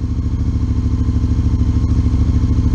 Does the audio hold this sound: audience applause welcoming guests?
no